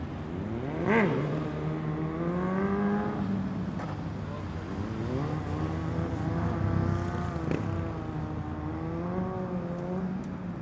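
Car engines rev and whine near Zenit stadium in Russia, a loud, continuous rising and falling roar with pitch sweeps as vehicles accelerate, heard close and under steady background noise.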